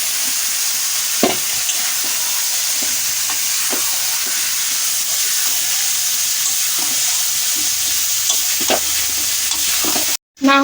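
Whole cumin seeds and bay leaves sizzle in hot oil, a continuous close frying hiss with occasional sharp pops and stirring scrapes, with no talking.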